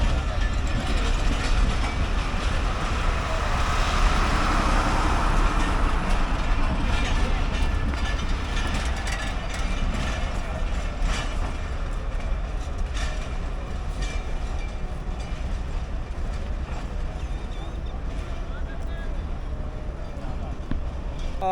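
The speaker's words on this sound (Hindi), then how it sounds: "फाइनली 7 साल बाद जी बाबू पैसेंजर ट्रेन रवाना हो चुकी है अपनी मंजिल की जानब" Babu passenger train in Lahore pulling away from the platform on its first day back in service, a steady loud rumble of rail cars and wheel clatter running throughout, with voices nearby.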